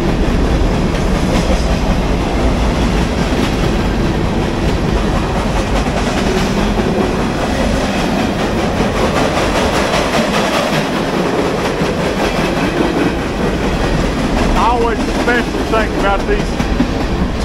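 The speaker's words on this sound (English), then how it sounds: "We're up this close to a train." A freight train with tanker cars rolls past at very close range at a former Southern Railway station in Limestone, Tennessee, a loud continuous rumble with rhythmic wheel clatter and a brief squeal near the end.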